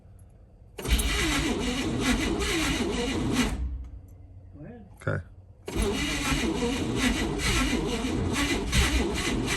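A 1969 Chevrolet Caprice 427 V8 engine cranks for a few seconds and stops. After a short pause with brief speech, it cranks again, catches, and runs loudly and steadily up close.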